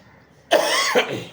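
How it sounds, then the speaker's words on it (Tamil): One close, sharp cough with a brief second burst at its tail, heard alone against quiet background. "இப்போ இருமல் லைட்டாக தான் இருக்குது"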